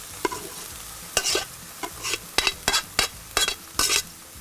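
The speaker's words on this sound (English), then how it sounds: "Listen to the sizzle." Rice sizzles on a hot Blackstone griddle while a utensil scrapes and stirs it in quick, irregular strokes, close by.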